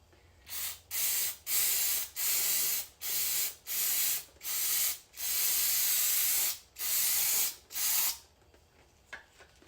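An aerosol cleaner can sprays in about nine loud hissing bursts of varying length onto a Lexus LS 400 mass airflow sensor, with short pauses between each, then goes quiet.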